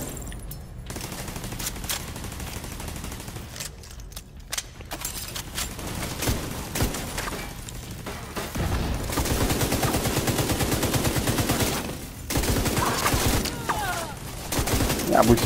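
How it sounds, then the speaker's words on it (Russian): Sustained automatic gunfire from an enemy turret in the shooter game Tom Clancy's The Division 2, loud rattling bursts that intensify midway, with someone talking over the din. "Враг поставил турель!"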